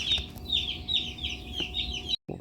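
Baby Cornish Cross meat chicks peep in quick, repeated high chirps, several overlapping close by in a brooder, with a short clatter near the end.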